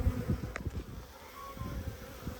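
Honey bees buzz at white hive number 2, their low, uneven drone fluttering close by with a few passing bursts.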